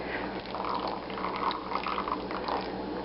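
Liquid soap batter poured from high into white soap in a mould for a ginger lime drop swirl, a steady gurgling, splashing trickle that runs close and continuously for a few seconds with no talk.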